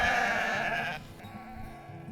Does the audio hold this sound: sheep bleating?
yes